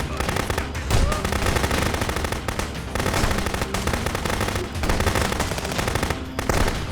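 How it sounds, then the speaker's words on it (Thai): Rapid bursts of machine gun fire in the video game Contraband Police rattle almost continuously, loud and close, with short pauses between volleys. "มันใช้ปืนกลเหมือนกันนะ"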